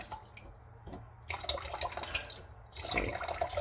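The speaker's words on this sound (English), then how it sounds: "the water keeps dripping" Water dripping and trickling from a leaking bathroom shutoff valve being replaced, quiet intermittent drips and splashes into a sink or basin, with bursts of faint running water and no voices.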